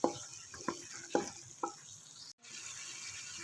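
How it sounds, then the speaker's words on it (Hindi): Minced meat is stir-fried with cumin in a pan for keema and gular curry, with four distinct scraping stirs against a soft, steady sizzle and a brief drop-out before the sizzle resumes. "अब ज़ीरा डालकर हम दोबारा इसको अच्छी तरह बुनाई करेंगे।"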